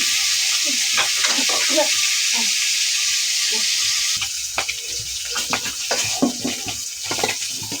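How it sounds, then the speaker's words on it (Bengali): Onions dropped into hot oil fry with a soft sizzle, joined by stirring scrapes and a burst of more sizzling partway through as extra oil is added, close and without talk. "এই তেলের ভিতরে পেঁয়াজ দিয়ে দিলাম, আর একটু তেল দিয়ে দিই।"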